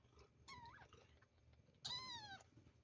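Newborn kittens mew beneath a bed, two thin rising-and-falling cries, the second louder and more drawn out, heard close against a quiet room with no talking.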